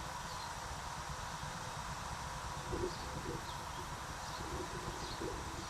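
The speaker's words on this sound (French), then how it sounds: "Il y a du vent quand même, hein." Steady, faint wind blows across the microphone with a soft broadband hiss and low rumble, no voices.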